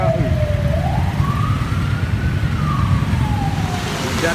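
Ambulance siren wailing on a street in Phnom Penh, its rising and falling tone sweeping steadily over loud, constant traffic rumble close by.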